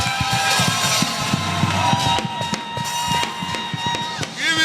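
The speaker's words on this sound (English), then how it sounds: "Continue to clap your hands for Jesus." A church congregation claps their hands for Jesus in a steady, rhythmic stream of sharp claps that runs throughout, backed by sustained music.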